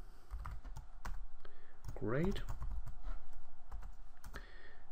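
Computer keyboard typing during SQL database work, quick clicky keystrokes running through the clip alongside a man's speech.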